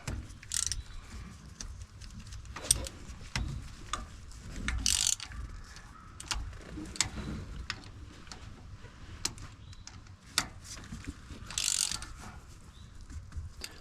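A hand ratchet clicks in short bursts and separate clacks while tightening the oil filter cover bolts on a 2023 Can-Am Defender, close and fairly quiet, with no talking.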